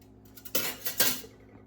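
A utensil stirs nutmeg into soup in a pot off the heat, giving two or three short scraping clinks against the metal, close and fairly quiet.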